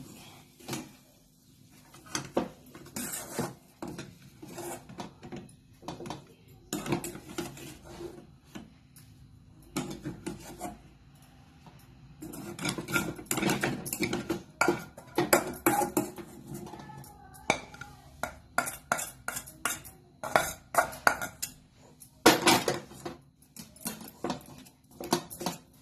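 Cutlet mixture scraped and moved onto a plate with metal utensils, bursts of clattering and scraping against cookware in irregular clusters, close and moderately loud, with quiet pauses between.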